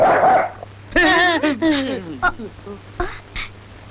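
In a Tamil comedy scene, a man imitates a dog barking close up. He gives a quick run of loud, yelping bark-like calls with a breathy sound just before them.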